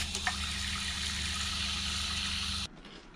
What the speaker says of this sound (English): The assistant filled in the water.